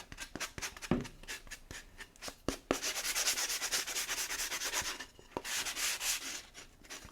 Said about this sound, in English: You can sand it just like this. You can use sanding paper or a sanding block.